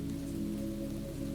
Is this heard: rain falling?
yes